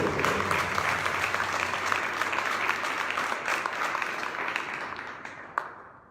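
A church congregation gives loud applause on the Feast of the Baptism of the Lord, a dense, sustained clapping that fades out near the end.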